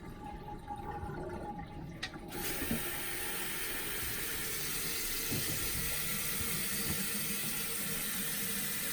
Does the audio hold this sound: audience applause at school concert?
no